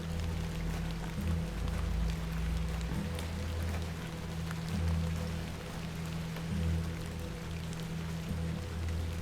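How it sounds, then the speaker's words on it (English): Steady rain falls in the Hob's Barrow video game, a continuous hiss of drops on surfaces beneath a low droning hum, even and unbroken throughout. "Let's get out of the rain."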